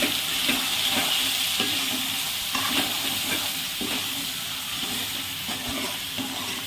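Mutton frying with chili powder in a pan, a loud, dense sizzle hissing steadily throughout while a spoon scrapes and stirs in repeated strokes, close up and with no talking.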